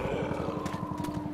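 A Tank zombie in Left 4 Dead 2 gives a deep, rumbling roar with a pulsing, guttural growl, steady and fairly loud for about a second.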